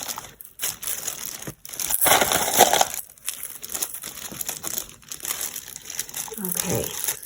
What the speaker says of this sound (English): I'm gonna just take my ice and cover the whole thing